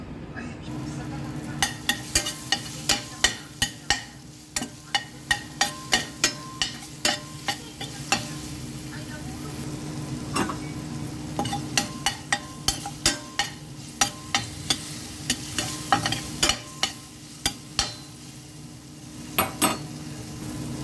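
Onions sauté in a hot pan for a fish fillet with tausi dish, a steady sizzle broken by a long run of sharp spatula clicks and scrapes against the metal, close and fairly loud.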